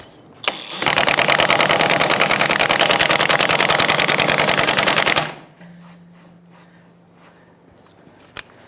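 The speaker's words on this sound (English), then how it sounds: "Now I'm going to use an electric 1/2-inch drive." An electric half-inch drive impact wrench spins and hammers in a rapid, loud, continuous burst for about four seconds while working on a 2000-2007 Ford Taurus rear wheel hub, then stops, leaving a faint hum and a sharp click.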